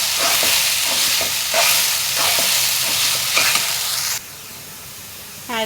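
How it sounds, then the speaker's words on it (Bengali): Okra frying in a pan sizzles steadily while a spatula scrapes and stirs it in several rhythmic strokes; the frying drops away abruptly near the end, leaving quieter background. "তো এটা আমার ভেন্ডিটা আর একটু নাড়াচাড়া করলে হয়ে যাবে"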